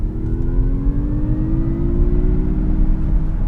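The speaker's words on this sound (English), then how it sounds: "There is a synthesized sound. It's a really muffled kind of sound, sort of outer spacey, sort of automotive." The synthesized driving sound of a 2022 Mazda MX-30 electric car: a muffled, steady tonal hum that rises slowly in pitch as the car gains speed, heard from inside with a heavy low rumble underneath.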